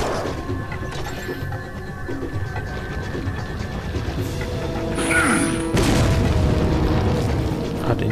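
A grenade detonates in the video game Resident Evil 4, a heavy boom breaking out over an ongoing rumble of game sound, followed by a sustained crashing roar.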